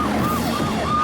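A warbling police siren from the WordGirl cartoon wails in smooth rising and falling sweeps, loud and steady over a dense background, with no speech.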